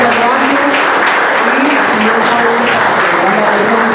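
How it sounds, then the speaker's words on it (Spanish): Sustained, loud applause from an audience at a poetry foundation gathering greets a poetry group, a thick continuous wash of clapping with faint murmuring voices underneath. "les pido un sincero aplauso a todos"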